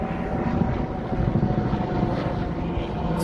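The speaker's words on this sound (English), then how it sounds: "Here comes this helicopter." A helicopter flies over Navy Pier in Chicago, its rotor and engine noise a steady, fairly loud drone that stays constant throughout with no speech.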